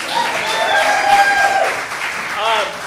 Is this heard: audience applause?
yes